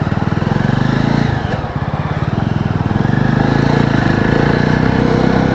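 Motorcycle engine labouring up a hill near Kodaikanal, suspected of a fault and failing to pull, with a loud, close, pulsing exhaust drone that dips briefly before steadying again.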